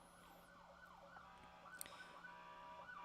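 An emergency siren wails outside in repeating rising and falling sweeps, faint and distant, under a low steady background.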